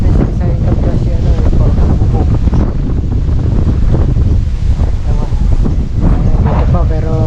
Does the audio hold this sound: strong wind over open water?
yes